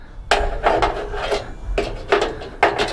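A metal cooking grate on a Camp Chef Everest camp stove is lifted off and set back, giving a few scraping, clattering metal knocks in short bursts, close and fairly loud.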